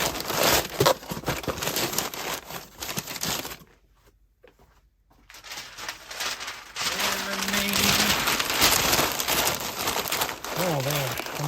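Packing paper handled by hand, loud close crinkling and crumpling in bursts, dropping away to near silence midway before resuming, with a voice talking and briefly humming.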